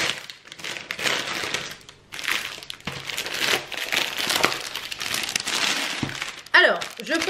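Plastic wrapping around a diamond painting canvas is crinkled and torn open in bursts of crackling rustle, close and fairly loud, with a brief pause midway and a sharper tearing snap near the end.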